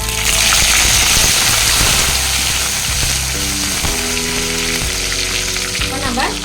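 Dried red chilies and curry leaves sizzle in hot oil, a steady loud frying hiss throughout, with someone talking over it in Tamil.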